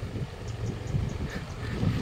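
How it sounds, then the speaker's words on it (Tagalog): Strong gusty wind buffets the microphone during a ride outdoors as a storm approaches, a continuous low rumbling roar that rises and falls with no voices over it. "medyo mahangin so far"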